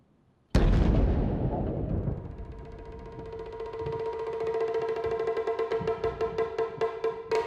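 An artillery gun fires once at an army base in Afghanistan: a sudden loud boom cracks out, then a long rolling rumble decays into a pulsing mechanical whine.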